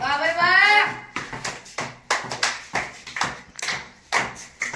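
Sharp, regular claps ring out at a steady pace, several in a row, while voices talk and call out over them.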